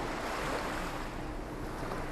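Steady ocean waves wash against an island shore in a cartoon, a continuous broadband surf with light wind, fairly soft and alone with no voices.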